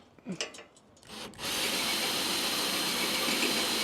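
Power tool cutting slots into a metal channel, starting after some brief knocks and handling noises, then settling into a loud, steady, continuous grinding whine close by.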